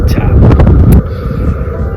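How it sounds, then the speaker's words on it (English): Winter wind gusts blow against the top of a camper, a loud, close, low roaring buffet that drops to a softer, steady rush after about a second. "right now, the wind's coming at the top of the camper"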